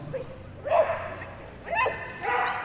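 A large dog barking during a team agility run at Crufts, a few sharp yips and barks spaced apart over arena ambience, with a commentator's voice faintly underneath.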